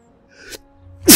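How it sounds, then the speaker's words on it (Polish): A single person's sneeze bursts out loud and close at the end, preceded by a short intake of breath, with faint background sounds from a Prince of Persia (2008) game underneath. "Kichnę."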